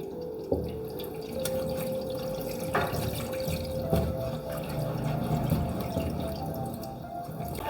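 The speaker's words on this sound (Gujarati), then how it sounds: "પાનને ઘસીને ધોવાના।" Leaves being rubbed and washed by hand in water for a dal paniya recipe: splashing, dripping and wet sloshing close by, with a few sharper knocks against a vessel.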